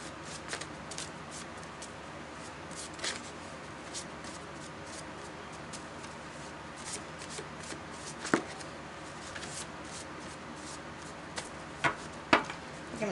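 Tarot cards are shuffled with a soft continuous riffling and rustle, close by and fairly quiet, broken by a few sharper clicks of cards snapping.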